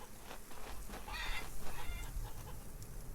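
Farm chickens cluck and squawk in Farmer's Dynasty, a busy, close flock with repeated clucks over a steady outdoor ambience and no talking.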